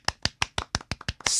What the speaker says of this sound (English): Smattering of applause for you.